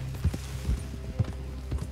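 Horses galloping toward the player in Red Dead Redemption 2, with heavy rhythmic hoofbeats thudding in regular clusters over a low rumbling background, close and steady, with no talking.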